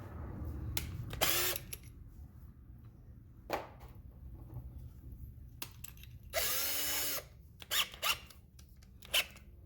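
A power drill whirs in several bursts while drilling holes in a car bumper to fit splitter rods, some brief and one longer sustained run, with quiet handling sounds and pauses between.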